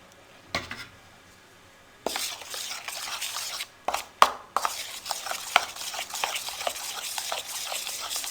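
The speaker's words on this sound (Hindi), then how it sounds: "मैदे को अच्छे से मैंने मिक्स कर लिया है।" A spoon works flour into cake batter for a tutti frutti cake made without an oven, giving continuous close scraping and stirring with soft knocks against the bowl after a quiet start.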